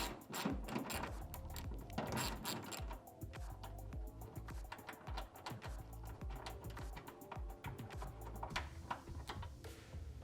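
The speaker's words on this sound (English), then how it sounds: "You're gonna use a 10mm to remove this over here." A 10mm ratchet backing out a bolt on the chassis of a 2016+ Toyota Tacoma, heard as quick, close, faint clicking bursts that repeat through the stretch with short pauses and no voices.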